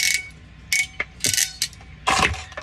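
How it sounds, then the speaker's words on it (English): A hand crimping tool squeezes wire connectors onto a cut wire for a motor repair on a Caframo fan, giving several sharp ratcheting clicks and crunches in quick bursts, close up. "I've cut my wire to the length I want it, and I'm crimping these connectors on."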